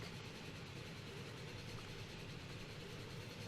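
A steam train in the railway game Transport Fever rumbles along as a steady, dense wash of engine and rolling noise, constant and unbroken with no distinct chuffs, no talking.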